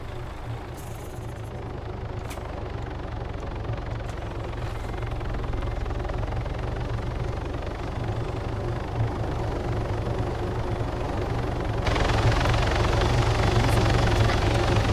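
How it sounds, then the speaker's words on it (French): A video game helicopter's rotor thrums loudly and steadily throughout, growing heavier near the end as it lands close; no voices. "L'hélico se pose devant le barman."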